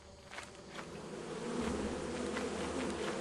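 A beehive buzzes in the Lethal Company video game, a steady droning hum from insects that swells louder halfway through and carries on with no speech over it.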